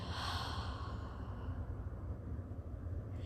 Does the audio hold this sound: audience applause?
no